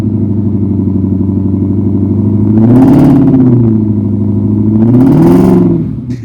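A 2026 Ford Raptor R's supercharged V8 idles with a deep, loud rumble, then revs up twice in rising roars that fall back to idle.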